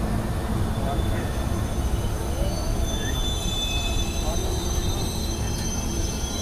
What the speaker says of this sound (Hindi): तो पहुंच रहे हैं दोस्तों हमारे ट्रेन अब कटक।